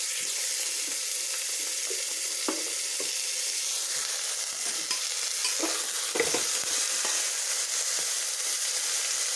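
Potatoes frying with jackfruit in a pan for a sabzi give a steady, loud sizzle throughout, with occasional scraping stir strokes and clinks near the mic and no talking.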